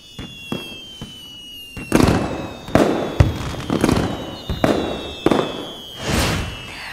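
Fireworks burst one after another in a series of loud, sharp bangs and crackling booms, some with lingering rumble, spaced irregularly across several seconds with no talking over them.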